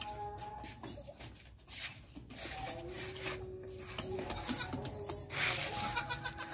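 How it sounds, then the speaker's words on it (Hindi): A mother goat and her young kid bleat in turn, wavering cries rising over faint farmyard background noise, fairly close, with no speech. "ये दोनों हैं फिलहाल, बच्चा और बकरी।"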